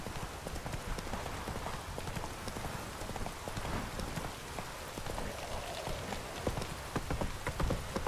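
Witcher 3: Wild Hunt gameplay: fast, dense hoofbeats of a galloping horse run steadily throughout, mixed with a rain-like patter and no talking.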